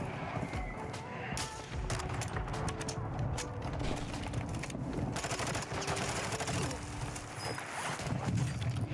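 Rapid gunfire crackles through a shooter match on Ashika Island, dense overlapping bursts mixed with game effects, fairly quiet, while a voice talks over it now and then.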